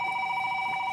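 Telephone tone sounding in a family home, a steady electronic ring held throughout, clear and moderately loud, with no voices.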